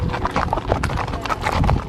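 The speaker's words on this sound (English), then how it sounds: "we'll still be riding an Icelandic horse on the south bank of Iceland" Icelandic horse hooves clip-clop steadily over ground while being ridden in southern Iceland, close by, with a brief whinny-like sound mixed in and constant outdoor background noise.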